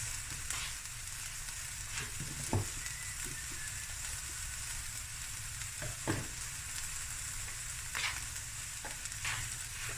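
Chicken and mushrooms sizzle and fry steadily in a pan, with a few sharp scraping taps of stirring cutting through the constant crackle, close and moderately quiet.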